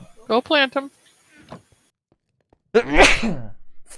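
A sneeze bursts out loudly and close during a Minecraft session, following a brief spoken line and a short gasp-like breath.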